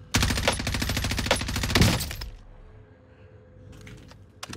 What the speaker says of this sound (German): Der schießt die ganze Zeit.